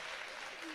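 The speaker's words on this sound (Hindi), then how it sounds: "जरा ढंग से दोनों हाथ खड़े करके ताली वाली बजाइए आप।" Audience applause at a Hindi comedy poetry gathering (kavi sammelan), a brief, dense wash of clapping heard as steady broadband noise with no clear voice over it.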